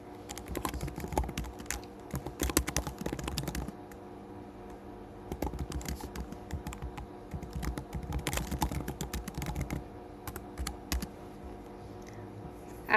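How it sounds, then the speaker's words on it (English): Computer keyboard typing in bursts of rapid clicks, with short pauses between runs of keystrokes, close and fairly quiet, no voices. "After I typed in my instructions in the RCE box"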